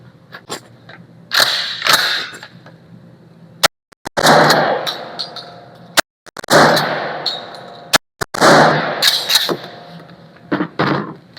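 Sharp, loud blasts from a GForce GF2P 12 gauge pump shotgun firing Critical Defense rounds outdoors, several shots spaced a couple of seconds apart, each followed by a brief echo and clattering pump action.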